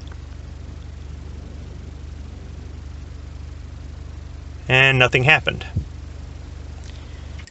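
A Chevrolet Colorado 2.8L Duramax diesel engine runs at a steady idle, a low, even drone. Someone briefly speaks over it partway through.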